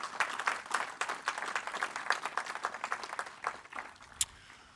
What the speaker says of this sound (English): if I could ask for a round of applause, and thanks to our CERT team in Rochester